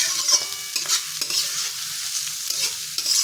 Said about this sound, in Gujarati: તો ડુંગળીને આપણે અહીંયા સાતડી લઈશું સારી રીતે